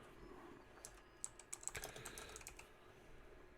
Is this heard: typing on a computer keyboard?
yes